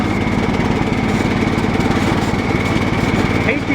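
A Cub Cadet 1018 lawn tractor engine, just fitted with a new solenoid, idles close by in a loud, steady drone with no pauses, running on its own without anyone talking over it.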